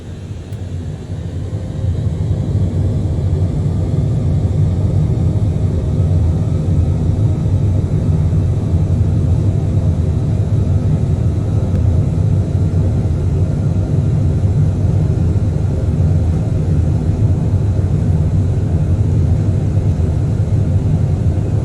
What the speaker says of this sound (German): Wenn wir jetzt hier gleich starten, und ich meine, der Dreamliner ist jetzt nicht unbedingt ein kleines Flugzeug